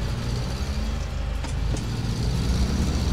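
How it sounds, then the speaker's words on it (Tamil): SnowRunner off-road truck engine stalling and coming back to life, a loud close rumble running continuously with a brief dip and surge partway through, no voices over it. "ஐயோ வண்டி ஆஃப் ஆயிட்டு ஆன் ஆகுது"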